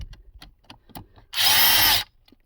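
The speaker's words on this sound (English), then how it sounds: "Now we can remove these screws around." Power drill backing screws out of a Kia Soul steering column, a single loud whirring burst under a second long, close by, after a few faint knocks and handling sounds.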